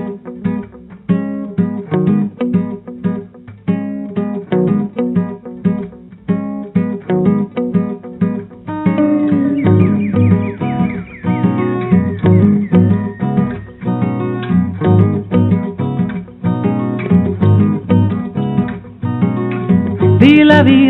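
An acoustic guitar plays a stripped-down version of a song with steady, rhythmic plucked notes. The playing grows fuller and denser in the second half.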